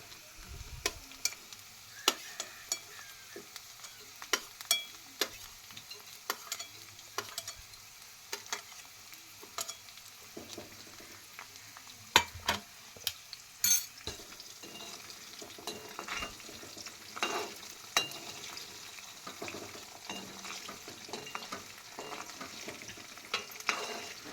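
Green chillies fry with potatoes in a pan for poha, a soft continuous sizzle broken by frequent sharp clicks and scrapes of stirring, fairly quiet and close, with no voices.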